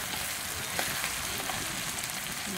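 Fresh shellfish stir-fried with holy basil in a hot pan, a dense, steady sizzle with faint crackles and stirring movement, close and continuous throughout without talk.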